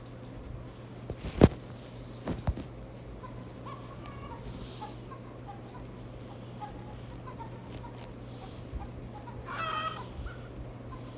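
Farm chickens cluck in scattered, fairly faint bursts over a steady low background hum, with one sharper call near the end and no talking.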